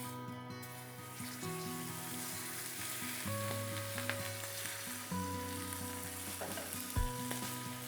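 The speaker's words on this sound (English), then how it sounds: "We're just searing both sides of the steak." Steak sears in hot vegetable oil in a pan for Portuguese house-style steak, giving a continuous soft sizzle at moderate distance, with steady music playing beneath and a brief clunk near the end.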